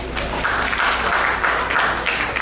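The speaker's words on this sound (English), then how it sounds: "Clap it up for yourselves." An audience at a home ownership workshop claps together steadily, dense and fairly loud, a continuous wash of hands without any voices over it.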